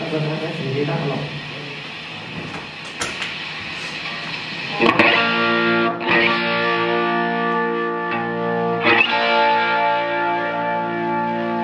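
Red Special electric guitar played through a chorus effect, distorted sustained chords and notes ringing out with swirling shimmer, struck several times and left to sustain.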